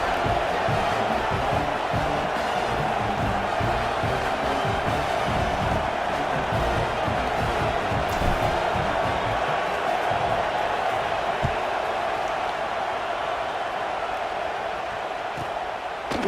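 A stadium crowd murmurs and roars steadily in a college football video game during Georgia vs Florida State, a dense continuous wall of crowd noise with occasional louder swells.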